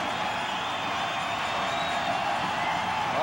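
At a Blue Jays game in Toronto, a large ballpark crowd roars with sustained cheering and whooping, a dense wash of voices that swells slightly toward the end.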